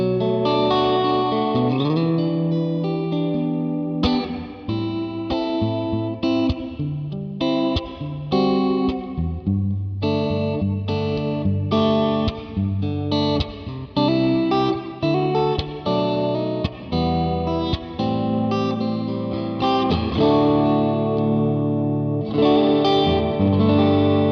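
An electric guitar played through a Black Country Customs Secret Path reverb pedal with modulation engaged, sustained chords and notes swelling into a wide, shimmering wash with chorus-like movement and slight grit, loud and close with no talking.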